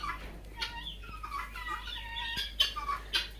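Quail birds on a farm, a few soft chirps and clucking calls scattered over low background hum, fairly faint and close.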